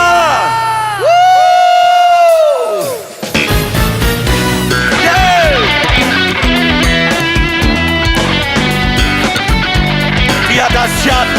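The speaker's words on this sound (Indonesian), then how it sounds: "Tepuk tangan yang paling meriah bagi dia." A church congregation erupts in cheering, whoops and shouts during a worship service, rising sharply and continuing as a sustained roar after a voice rings out at the start.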